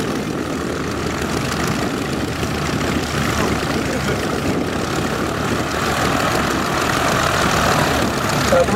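Propeller display aircraft flying past at 220 miles an hour at an RAF air show and DH Moth Club rally, a steady broad engine drone holding loud for the whole stretch with no talk over it.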